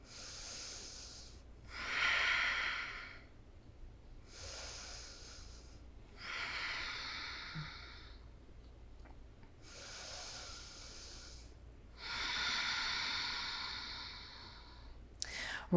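Slow, deep breaths are held through a yoga pose, with long airy inhales and exhales repeating about every two to three seconds, close and steady with no talk.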